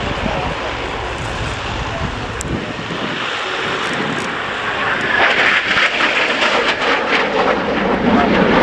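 An Austrian Air Force Saab 105OE jet trainer's engine roars steadily overhead at an air show display, growing louder toward the end as the plane passes close.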